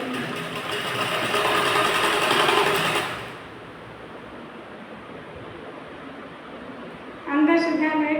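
A sewing machine stitching a blouse runs in a steady whirring burst for about three seconds, then stops, leaving quiet room noise before a voice briefly speaks.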